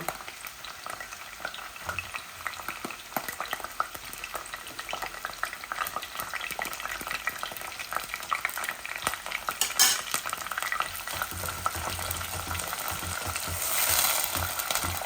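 Chopped onion fries and is stirred in a pan for a Bangladeshi chicken and satkora dish, a steady close sizzle broken by scraping, clicking stirs that swell toward the end, with no talking.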